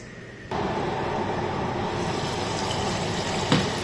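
Hot water gushes into a cooking pot of braised chicken, starting suddenly and continuing as a steady, close pouring rush with a small splash near the end.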